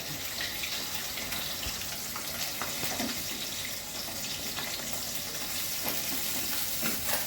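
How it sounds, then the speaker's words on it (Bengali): Rohu fish fries in hot oil with a steady, close sizzle and crackle that carries on without a break, with no talking. "মাছ অলরেডি ভাজা হচ্ছে, তেল গরম হয়ে গেছে, মাছ ভাজতে শুরু করেছে"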